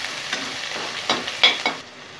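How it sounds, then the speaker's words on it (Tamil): Onions and yellow, green and red capsicum sautéing in a pan, with a steady sizzle under a few distinct spatula scrapes and stirs, close and clear, no voices. "வெங்காயத்தை ஒரு நிமிஷம் போல வதக்கிட்டு கூடவே நம்ம கொடமிளகா சேர்த்துக்கலாம்"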